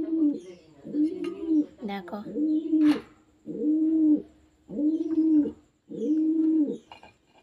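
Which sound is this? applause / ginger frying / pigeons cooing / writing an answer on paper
pigeons cooing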